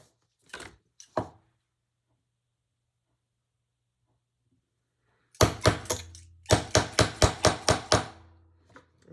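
A hammer strikes leather during the making of an unlined tote, with two soft taps, a long silence, then a quick run of about ten sharp, close blows in a fast rhythm.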